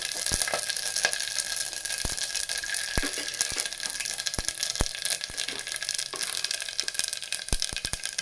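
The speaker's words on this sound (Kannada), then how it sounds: "ಎರಡು ಸ್ಪೂನು ಕುಕ್ಕರ್ಗೆ ಎಣ್ಣೆ ಹಾಕ್ಕೊಂಡು ಸಾಸಿವೆ ಬೆಳ್ಳುಳ್ಳಿ" Mustard seeds and garlic frying in two spoons of oil in a pressure cooker for moong dal, a continuous close sizzle punctuated by sharp, scattered popping crackles.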